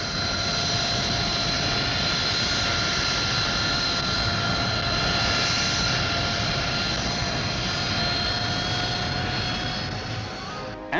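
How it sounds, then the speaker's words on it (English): Harrier jet with a Rolls-Royce Pegasus engine running, a loud, steady roar with a high whine, sustained for about eleven seconds with no voices. "Her powerful Pegasus engine has nozzles that swivel back in level flight, forward for braking in flight, and down for lift"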